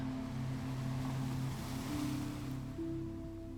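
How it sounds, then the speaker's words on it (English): A storm on a Cornwall clifftop brings a steady, continuous roar of wind and surf. Faint tonal droning runs through it without a break. "The wind moves through the grass at the cliff top"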